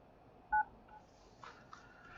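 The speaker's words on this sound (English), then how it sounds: "You're lucky I heard the phone." A single short phone keypad tone sounds once, clear but quiet, as a door-entry caller is buzzed in, followed by faint room noise.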